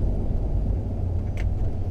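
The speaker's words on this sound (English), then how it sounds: "I'm going to show you what the exhaust sounds like before and after" A Class B RV campervan engine idles through a newly fitted dual exhaust, a constant low rumbling drone heard close and fairly loud, with no speech.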